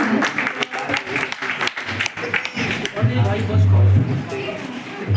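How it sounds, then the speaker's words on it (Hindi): Audience applause at an Awadhi folk arts festival, steady clapping from a crowd mixed with a voice speaking over it, with a low hum running through. "और हम चाहेंगे कि शिप्रा जी की जोरदार तालियां हो जाएं।"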